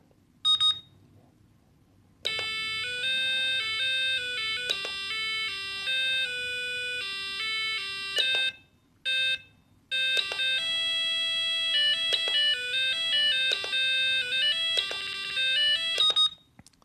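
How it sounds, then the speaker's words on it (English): A cheap digital alarm clock plays electronic alarm tones one after another, bright beeping melodies and chimes with short silent gaps between the different ringtones. "When you hit set again, you could choose from 9 ringtones."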